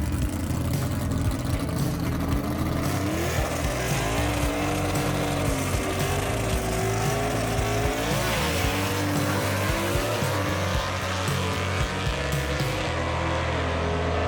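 Gasser drag race cars, including Ron Allison's Poppy's Toy 2 and the Flat Out Falcon, roar loudly down the strip together, engines rising and falling in pitch over a steady dense rumble with a brief tire chirp.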